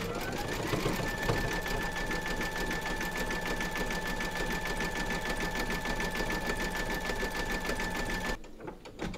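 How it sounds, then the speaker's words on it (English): A sewing machine stitches white thread around the trim of a Santa suit on an appliqué design, a fast, even mechanical whir running for several seconds before stopping abruptly near the end. "Load your matching bobbin and thread colour for the trim of Santa's suit into your machine, and then stitch round number 13"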